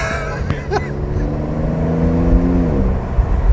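A 2020 Porsche 911 Carrera S flat-six engine with a dual-clutch gearbox revs up through a rising whine, heard from inside the car, then the pitch drops as it shifts, loud and steady over road rumble.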